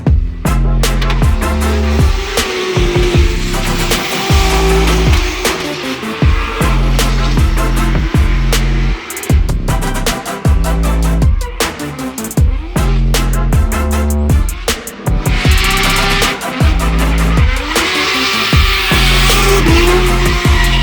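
A drift car skids through practice runs at a European drift championship round in Latvia, its engine roaring and tires squealing loudly and continuously, with revs rising and falling through the slides.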